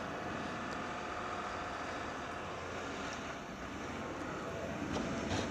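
A snowplow pushing heavy wet snow gives off a steady, moderately distant engine drone with a broad rumbling wash, continuous and unbroken throughout.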